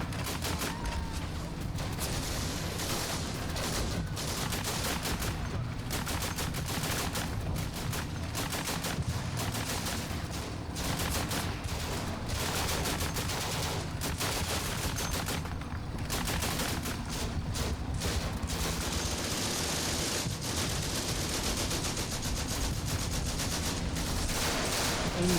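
Combat Mission: Afrika Korps battle gunfire: a dense, continuous crackle of rifle and machine-gun fire with scattered heavier reports, steady and loud for the whole stretch, with no voices.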